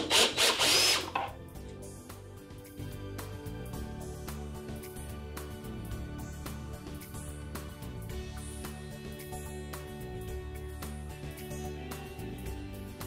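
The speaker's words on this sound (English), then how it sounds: "Now we'll start putting our battery box back together with our 8 Phillips head screws." A power screwdriver driving Phillips head screws into a mobility scooter battery box, a loud short burst at first, then a steady whirring drive running to the end.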